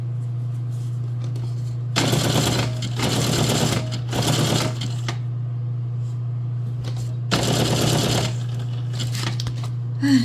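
A sewing machine stitches zigzag through a foam junk journal cover in three loud bursts of rapid mechanical whirring with a pause between each, then a fourth burst after a longer gap, all over a steady low electrical hum.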